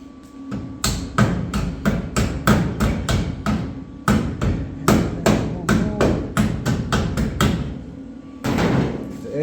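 Rapid, sharp metallic hammer blows in quick bursts, ringing on the sheet metal of a car body's B-pillars during a chop top, with short pauses between volleys.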